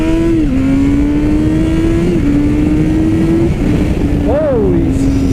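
A 2017 Honda CBR1000RR four-cylinder sport bike engine droning steadily, then rising briefly in pitch as it accelerates, loud and close under heavy wind rush.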